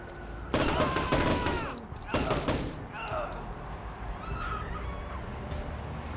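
Rapid gunfire in the tactical shooter Door Kickers 2: two loud, dense bursts a couple of seconds apart, followed by quieter scattered shots and a murmuring background.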